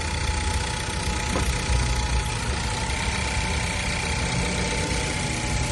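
A car engine idles steadily while warming up, producing a continuous, close, even rumble with a faint mechanical ticking and no pauses.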